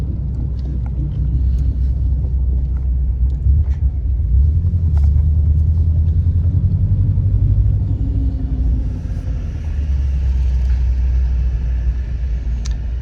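A Subaru WRX bugeye, running rich at idle, gives off a loud, steady low engine rumble close to the microphone, with some wind buffeting and no speech.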